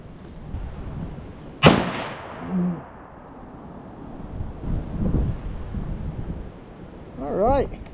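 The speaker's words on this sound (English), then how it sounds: "Our first test shot of the NitroFire Pro by Traditions." A single loud, sharp shot from a Traditions NitroFire Pro muzzleloader cracks out and rolls away over wind noise outdoors, followed by quieter rustling and brief voices.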